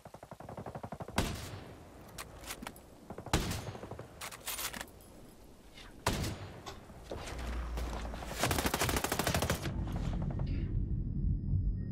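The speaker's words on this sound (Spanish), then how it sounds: "Me estaban disparando de atrás y los dos de adelante" Gunfire in Ghost Recon Breakpoint PvP: repeated close bursts of automatic rifle fire and single shots in uneven volleys, loud and sharp, with a denser stretch of shooting toward the end.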